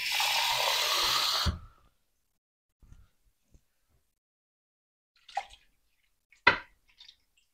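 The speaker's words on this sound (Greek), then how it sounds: "Και θα ρίξω και λίγο νεράκι." Water poured into a baking pan of chicken, a steady splashing pour lasting about a second and a half, then stopping, followed by a few faint knocks and brief clatters in a quiet kitchen.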